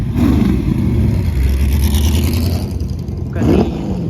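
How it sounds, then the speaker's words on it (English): A loud Can-Am race car engine rumbles and sputters continuously while being bump started, then surges into a short, sharp rev near the end. "looks like a little Can-Am car being bump start here"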